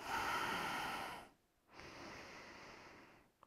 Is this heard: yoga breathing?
yes